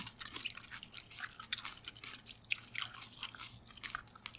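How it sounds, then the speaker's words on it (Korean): Honey chicken eaten by hand, with tteokbokki on the side, produces close, soft chewing and biting noises. Small moist crunches and sticky smacks repeat irregularly and sit fairly quiet, with no talking over them. "그니까 치킨 손으로 먹는 거야"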